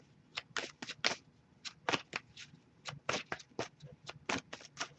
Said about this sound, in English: I'll shuffle a little bit longer, see if we get anything.